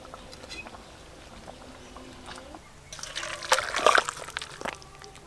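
Thick fish curry (kalia) slides and splashes out of a pan in a short burst of wet pouring and dripping, after a few seconds of quiet clinking.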